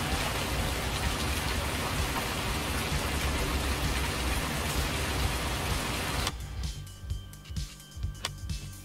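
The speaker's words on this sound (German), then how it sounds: "Ich höre nur den Ton von dem Regen, ne?" Steady in-game rain from a farming simulator in Thüringen, a thick continuous hiss that cuts off abruptly after about six seconds, leaving quieter scattered clicks and light mechanical noises.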